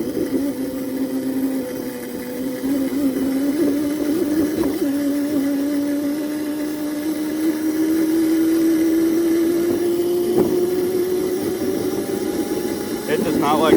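A CrazyCart electric go-kart hums steadily on a dirt road, its motor whine rising slowly in pitch as it speeds up, with rumbling and rattling from the rough surface throughout.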